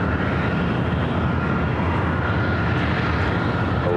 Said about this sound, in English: A flight heading to Austin in Texas.